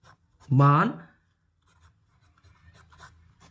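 Maths working is written out by hand, heard as faint, soft scratching strokes after a single brief spoken word near the start, close but quiet.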